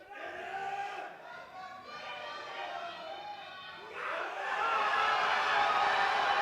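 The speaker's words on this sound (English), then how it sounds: "he's brought it up to a huge roar" A large audience at a European equipped powerlifting championship cheers and shouts during a lift, and the noise swells into a loud, broad roar near the end while a commentator talks over it.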